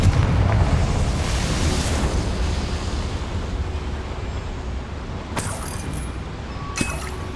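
A Confringo blast spell goes off in Hogwarts Legacy, a loud booming explosion with a rumbling tail that slowly fades, followed by a couple of sharp clinking bursts near the end.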